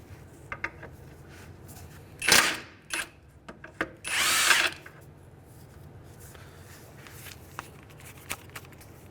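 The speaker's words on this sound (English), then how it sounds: "And again, we're going to use our impact." An impact wrench removes a 19mm castle nut from a ball joint on a 2003-2011 Honda Element: two short, loud rattling bursts, the second longer, stand out against a quiet workshop background with scattered small clicks and knocks.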